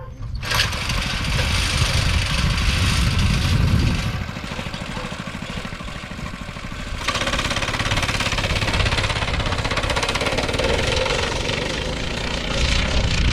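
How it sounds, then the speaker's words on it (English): A homemade backyard go-kart engine revs hard and labors as the kart climbs a hill, a loud, continuous rasping drone with a surge early on, a brief dip, then rising strain again close by. "Hear the old Andy coming up the hill"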